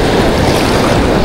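Ocean waves off Borongan City, Eastern Samar, wash loudly and continuously close by on a fishing outing, mixed with heavy wind buffeting the microphone.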